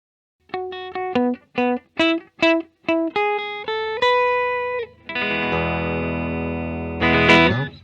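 A 1958 Collector's Edition Gibson Explorer electric guitar through an amp: a run of separate picked notes, then a long ringing strummed chord, swelling louder at the end.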